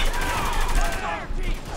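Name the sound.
gunfire in video game Spec Ops: The Line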